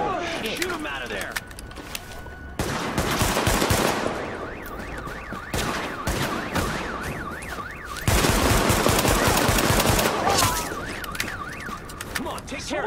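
Bursts of automatic gunfire and shots in the Tom Clancy's The Division video game, loud and repeated through a busy combat mix with a warbling alarm-like tone, while someone shouts over it.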